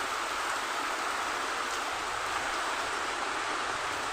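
Continuous rain falls on a village, heard as a steady, even hiss with no breaks or voices.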